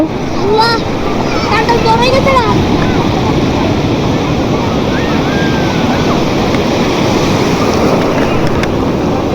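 High-tide surf pounds Sugandha beach at Cox's Bazar in a loud, continuous wash of breaking waves mixed with wind buffeting, with brief voices near the start.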